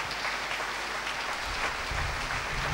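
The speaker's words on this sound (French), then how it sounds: "par nos acclamations, accueillons le pasteur Adenio Charles de Palimé." A church congregation applauds to welcome a pastor, producing a thick, sustained roar of clapping with no pauses across the short stretch.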